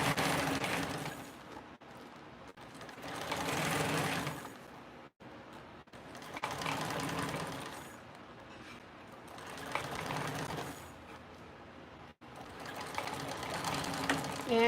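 A sewing machine back stitches a seam at a narrow 1/8-inch allowance, running loud and close in long steady bursts broken by brief pauses.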